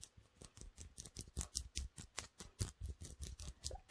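A plastic necklace yoke tapped repeatedly, a rapid run of sharp, bright clicks at a fairly even rhythm, close and alone with no talk.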